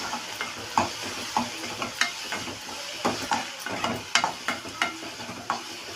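Sliced onions with salt being stirred and sautéed in a hot pan for a brinjal kara kuzhambu: steady sizzling frying under repeated scraping strokes of a spoon against the pan, close and fairly loud.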